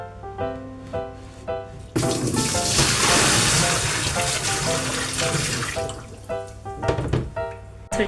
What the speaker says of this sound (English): put water into the washing machine drum